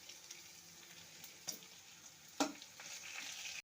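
Nuts, a bay leaf and dry red chilies frying in oil in a kadai for bhuna khichuri, a quiet steady sizzle with a couple of brief sharp crackles partway through and the hiss rising slightly toward the end.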